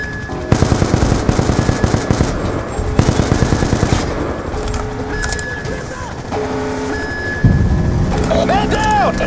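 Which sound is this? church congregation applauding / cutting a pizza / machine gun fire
machine gun fire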